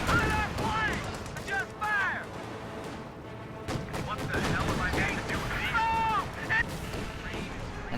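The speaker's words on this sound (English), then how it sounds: "Flak half-track is engaging here in the center." Gunfire from a flak half-track in a video game battle: heavy, repeated shots rattling through a dense, continuous mix of other combat noise.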